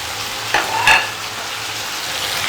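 Carrots and green beans stirred into a hot frying pan, with a steady close sizzle of frying and two brief scraping strokes of a utensil across the pan.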